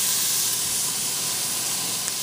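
Carrots and celery sauteing in a soup pot, a loud, steady sizzling hiss that carries on without a break.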